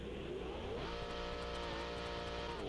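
Overpowered car in BeamNG.drive with a roughly 10,000 hp engine, its gears and engine failing: a steady, strained engine drone that shifts to a harsher tone about a third of the way through, with faint rhythmic clicks and knocks.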